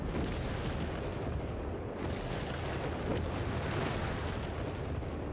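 Dense, continuous rumbling artillery barrage from Company of Heroes 3, with layered booms and crackling blasts blending into a loud, unbroken wall of explosions throughout.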